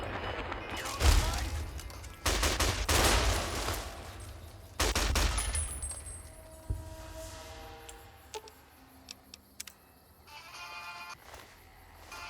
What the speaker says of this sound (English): What the hell is he firing at?